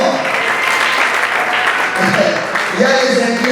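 Audience applause at a conference in Kinshasa, DR Congo: a dense, steady wash of clapping that runs throughout, with a voice speaking over it toward the end.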